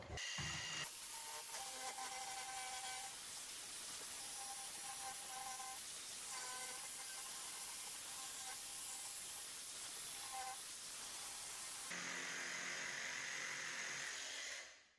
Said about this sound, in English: All we need to do now is follow this edge with our jigsaw or our coping saw.